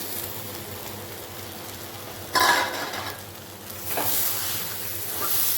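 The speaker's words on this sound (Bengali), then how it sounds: "আর আমি এখন একটা ফুলকপি আর আলুটাও দিয়ে দেবো যে ভাজা ফুলকপি আর আলু" Cauliflower and potato frying in a pan, a steady low sizzle like light rain that flares into louder bursts of hissing as the pieces are stirred and turned.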